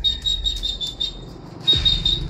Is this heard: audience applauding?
no